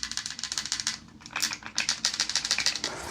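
A Magpul Gen 3 20-round magazine with a loose round shifting inside rattles in quick, repeated clicking bursts, close and fairly loud, with a brief pause midway and no talk.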